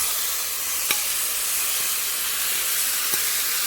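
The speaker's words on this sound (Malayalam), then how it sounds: "ഇതിലേക്ക് നമുക്ക് പയർ ഇട്ട് കൊടുക്കാം." Green gram sizzles in a hot pan on a low flame, giving a steady, loud hiss throughout with a couple of faint clicks from stirring.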